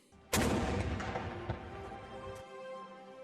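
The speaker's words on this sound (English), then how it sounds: "They were received at the museum with a 21-gun salute." A 21-gun artillery salute greets mummies arriving at the National Museum of Egyptian Civilization in Fustat: one deep, loud cannon boom lands abruptly and rolls away in a long, fading rumble with faint echoes.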